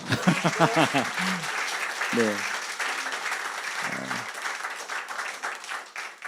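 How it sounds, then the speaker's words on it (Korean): Audience applause fills a concert hall at a welcome concert, steady dense clapping throughout with a few short voiced calls and vocal tones rising over it early on. "오늘 다시 한번 박수 한번 보내주십시오"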